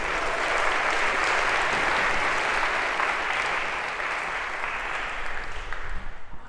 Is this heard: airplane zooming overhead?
no